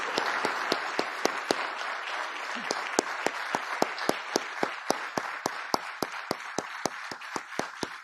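Steady audience applause at a White House public health event after the First Lady is introduced, dense and even throughout, with sharp, regular individual claps standing out in a quick rhythm; no one speaks.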